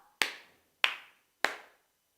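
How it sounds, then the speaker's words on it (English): Three single hand claps sound in an even, spaced rhythm, each sharp and close with a short echoing tail, followed by quiet. "When I asked you to clap once, it was only one echoing of the sound."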